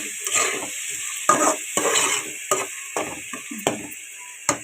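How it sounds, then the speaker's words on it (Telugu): Chopped tomato is stirred into a hot frying pan, with a spatula scraping and clinking against the metal in repeated strokes over a steady, close sizzle. "టమాటా కూడా వేసుకొని ఇలా మిక్స్ చేసుకోవాలి"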